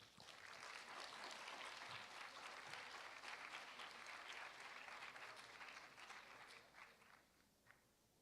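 Audience at a student medical congress applauding a speaker, steady sustained clapping filling the room at a distance, fairly faint, fading slightly near the end.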